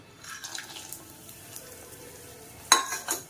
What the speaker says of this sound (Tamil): முந்திரி பாதாமை நம்ம முதல்ல வறுத்து எடுத்து வச்சுக்கலாம்.